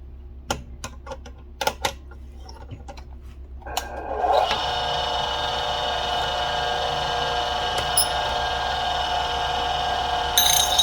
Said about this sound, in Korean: 짱돌을 한번 갈아 보겠습니다 광을 한번 내볼게요